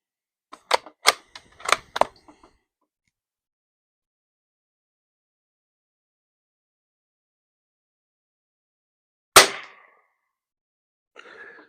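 Sharp, close reports from a Savage B22 .22LR rifle: a quick cluster of about five snappy cracks in the first two seconds, then a long silence and one more crisp shot, followed by a faint rattle.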